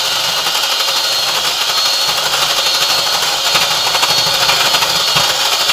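Batter mixed with butter for Yorkshire puddings is whisked hard, giving a loud, continuous whirring rush close by with no break and no voices.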